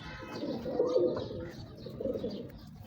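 Pet pigeon cooing up close, two soft rolling coo phrases over a low murmur of background noise, no speech.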